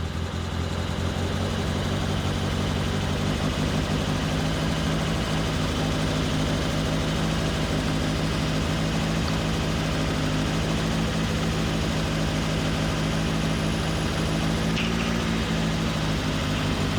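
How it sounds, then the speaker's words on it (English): A turbocharged Mazda Miata idles slightly high, a continuous, even engine drone held close and steady with no talking. "It's idling a little bit high."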